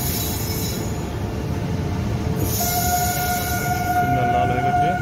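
A passenger train pulls out toward Naihati, its heavy rolling rumble steady throughout while a sharp, sustained wheel squeal rises and holds over the second half, loud and close.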